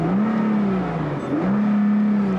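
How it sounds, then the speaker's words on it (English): A car engine idles steadily in park after start-up, its low hum rising in a short rev, dipping, then climbing again into a second sustained rev, loud and close with no talking. "Now, the engine has a very unique noise to it for sure."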